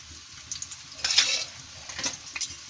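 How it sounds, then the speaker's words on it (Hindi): Onion, green chilli and cumin fry in hot oil for aloo matar, producing a faint, close sizzle with short bursts and light utensil clinks against the pan. "अब इसमें हम प्याज डालेंगे, हरी मिर्च डालेंगे,"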